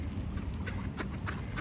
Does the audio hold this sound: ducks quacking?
yes